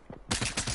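Rapid gunfire in the shooter game Bandwagon, a dense burst of repeated loud shots rattling in quick rhythm after a short quieter lead-in.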